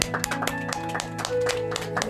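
A church congregation claps in thanks during a worship service, brisk rhythmic handclaps over soft sustained music, moderately close and steady throughout.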